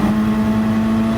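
A racing car engine in the Gran Turismo video game, mid-race against a BMW, holds one loud steady high-revving tone for a brief moment, with no talking.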